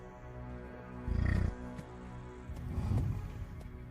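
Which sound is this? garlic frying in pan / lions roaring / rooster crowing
lions roaring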